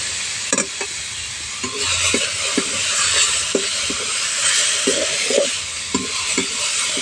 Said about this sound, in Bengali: পোস্তটা দিয়ে ভালো করে ভেজে নিয়েছি